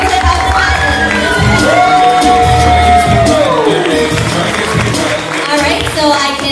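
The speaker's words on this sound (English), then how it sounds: "let us give a round of applause for the debutant of the night." An audience at an 18th birthday grand entrance applauds and cheers for the debutant, loud, close crowd noise with whoops, shouts and clapping running all the way through.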